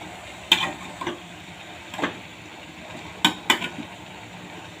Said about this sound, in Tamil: போட்டு நல்லா சுருளை கிண்டி விட்டுக்கலாம்